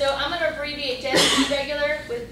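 A sneeze in a lecture hall, one sharp loud burst cutting across the instructor's continuous talking.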